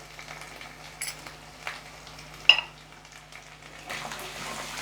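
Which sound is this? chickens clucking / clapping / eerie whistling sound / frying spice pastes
frying spice pastes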